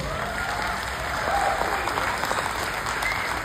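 A seminar audience claps together, a dense, even burst of applause that holds steady for a few seconds.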